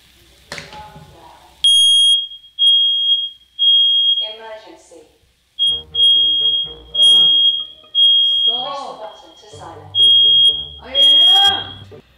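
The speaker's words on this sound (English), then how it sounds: "My fire alarm is gonna go off." A kitchen smoke alarm blares in loud, repeated shrill beeps of about a second each, with people talking and exclaiming between and over the bursts.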